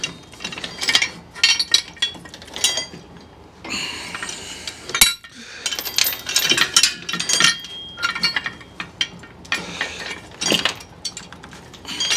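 Ratchet clicking in quick irregular bursts while removing the engine from a Jeep TJ, with short metallic clinks of tools between the bursts, close and fairly loud.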